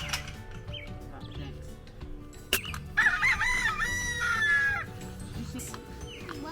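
Rooster crowing loudly and up close on a farm at a family's grandmother's place, a sharp bright call over a low background of clucking chickens and other farm animal noise, with a brief knock just before the crow.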